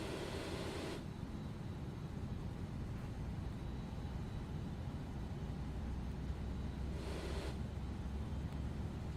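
Falcon 50 jet engine spooling up during a start in MSFS 2024, a steady low rumble and hiss that holds throughout, with two brief bursts of brighter noise near the start and near the end.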